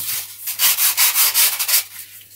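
Coarse sandpaper rubs across the thin trailing edge of an F3K glider wing core in a short run of five or six quick, close sanding strokes, then eases off, with no talking.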